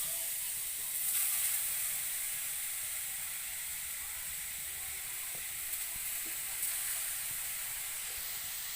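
Grated coconut frying in a pan for dudh puli pitha, a steady broadband sizzle and hiss running throughout with faint clicks of stirring, no voices.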